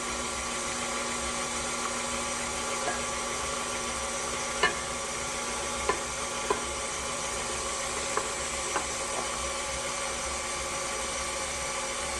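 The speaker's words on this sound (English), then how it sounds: "And mix on low speed." An electric mixer runs on low speed through red velvet cupcake batter with buttermilk and red food coloring, giving a steady, even motor whir with a few faint clicks as the beaters knock the bowl.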